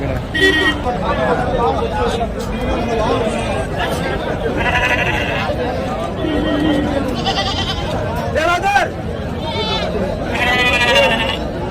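Goats and sheep bleat repeatedly over a busy crowd at the Saturday sheep market in Angallu, with people talking and chattering throughout in a noisy outdoor scene.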